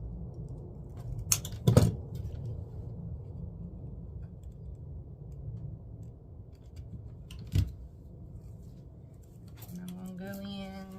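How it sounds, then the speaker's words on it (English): Two sharp, quiet snips as a grapevine wire is cut shorter for a peach and yellow grapevine craft. They are separated by a few seconds of near silence, and a voice speaks at the end. "I'm going to cut this a little bit shorter"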